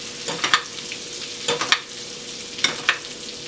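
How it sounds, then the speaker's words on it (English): Skin-on whitefish fillet frying in a hot pan while foaming butter is spooned over it, a steady sizzle broken by three pairs of clinking spoon-scrape basting strokes, close up with no talk. "Now I'm just going to baste the fish."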